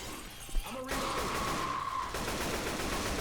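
Gunfire in the Left 4 Dead 2 zombie game's Dead Center campaign: a sharp crack, then roughly a second of sustained rapid shots with a ringing tone, continuing as a dense burst at steady loudness.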